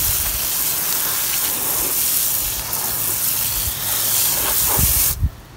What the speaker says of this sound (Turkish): Şimdi bol bol su vereceğim.